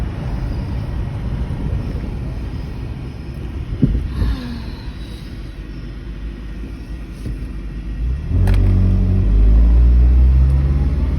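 An old car driving around town, its steady low engine rumble and road noise running throughout and swelling louder and heavier near the end as it accelerates.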